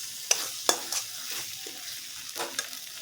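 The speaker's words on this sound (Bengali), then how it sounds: "মশলাটা ভালো করে ভেজে নিয়েছি।" Spices frying in a pan, a faint sizzle punctuated by several sharp spatula scrapes and taps at an irregular pace, close by, no voices.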